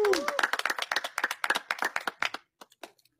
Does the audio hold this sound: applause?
yes